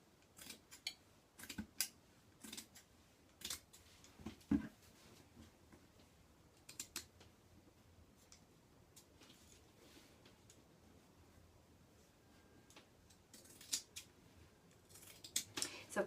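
Scissors make a series of short, crisp snips while cutting along a thumb guide. The snips come close by in scattered bursts with quiet gaps between them.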